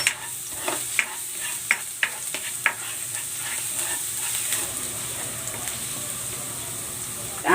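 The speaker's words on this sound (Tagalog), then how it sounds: "maglalagay ako ng cooking oil. Igigisa ko na tong bawang." Garlic sautéing in hot cooking oil in a home kitchen pan gives a steady bright sizzle, punctuated early on by several sharp stirring clicks and scrapes, with no voices.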